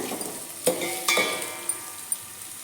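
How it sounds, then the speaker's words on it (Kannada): Onions fry in a pan for a bean palya, giving a steady close sizzle broken by a few clinks and scrapes of a spoon stirring against the metal. "ಸ್ವಲ್ಪ ಕಲರ್ ಚೇಂಜ್ ಬರೋವರೆಗೂ ಫ್ರೈ ಮಾಡ್ಕೊಳ್ಳಿ"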